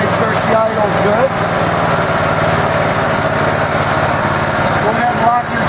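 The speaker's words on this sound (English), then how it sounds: "we'll bring her back down, make sure she idles good" Generac GP15000E portable generator engine settling back to a steady idle, a constant loud droning hum with a throaty low rumble that holds even throughout, close by with no pauses.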